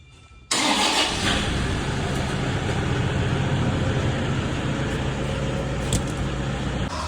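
A vehicle engine is started with its self-starter: after a brief quiet moment the motor catches abruptly and settles into a loud, steady, close running rumble for the rest of the clip.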